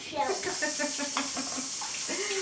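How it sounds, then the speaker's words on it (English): A kitchen tap runs steadily while spaghetti is rinsed under it, a close, even hiss of flowing water with faint voices murmuring underneath. "Mom, I'm going to wash the spaghetti"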